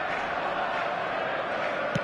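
A dense, steady roar from a football stadium crowd reacting as a forward tracks back, loud and unbroken throughout, with a brief thump near the end.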